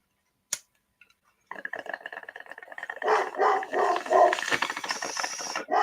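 A dog barks and yips indoors after a quiet start, close and loud, with bursts building into a continuous, excited run of barking.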